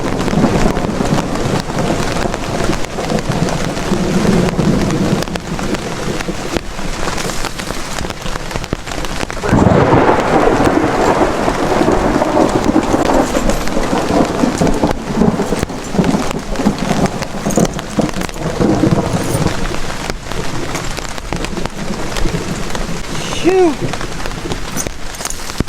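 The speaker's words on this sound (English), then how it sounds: "Them's all thunderclaps." A heavy rainstorm pours steadily throughout, with a loud thunderclap rumbling in around the middle and further rolls of thunder under the rain; a faint voice calls out now and then.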